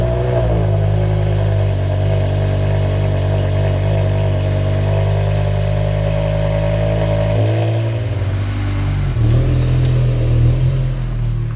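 A BMW M5 E60 with a V10 engine and a rare manual gearbox runs steadily with a deep, even engine tone, then its note shifts briefly near the end as the engine is blipped. The engine sounds close and loud.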